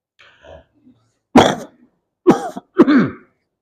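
A few short, sharp coughs during an Islamic sermon, one then two more close together, loud and near against quiet, with faint murmured speech at the start.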